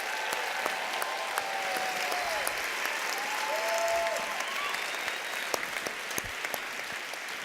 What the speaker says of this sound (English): Big round of applause for all of our participants.